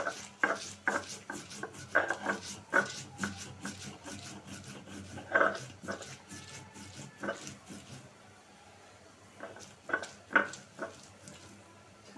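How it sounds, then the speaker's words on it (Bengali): Chili peppers being crushed into powder by hand, heard as a series of close, irregular grinding and rubbing scrapes with sharp knocks, pausing briefly partway before resuming. "আগে মরিচটা গুঁড়া করে নিই মরিচ কিন্তু অনেক ঝাল"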